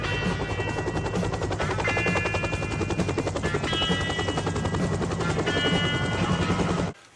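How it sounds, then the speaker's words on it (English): A helicopter's rotor chops in a fast, steady rhythm, loud and close, holding level for several seconds before cutting off abruptly. "Choppers. Choppers coming."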